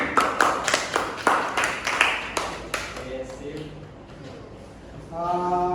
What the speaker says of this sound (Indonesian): Oke, bagus, tepuk tangan untuk Roji